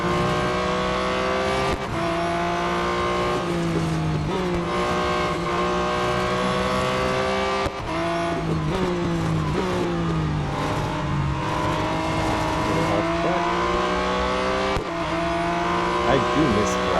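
Porsche GT4 race car engine in the Real Racing 3 game, a loud continuous whining drone whose pitch climbs and drops with gear shifts, with several brief dips as it changes gear.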